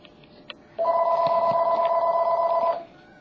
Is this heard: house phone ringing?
yes